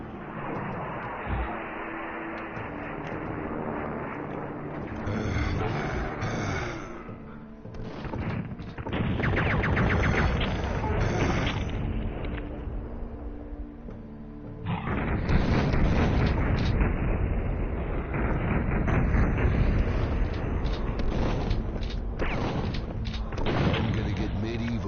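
Booming, rumbling explosions from an alien-fighting video game, a sustained roar that swells twice and stays loud throughout, with a voice talking over it.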